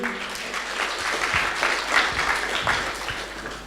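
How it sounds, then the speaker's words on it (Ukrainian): An audience at a conference applauds as a speaker is invited onto the stage, producing a short burst of steady, moderately loud clapping that swells slightly in the middle and carries on without any voices. "Ваші оплески, друзі."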